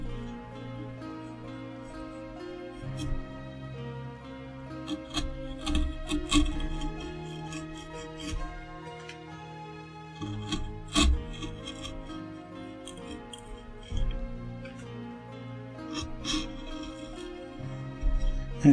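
A chisel carving wood, producing intermittent scraping and rasping strokes with occasional sharp taps, close and fairly quiet, set against steady background music with no talking.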